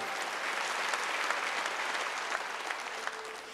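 Steady, dense applause from a church congregation at a Wednesday worship service, sustained and even for the whole stretch with no voices standing out.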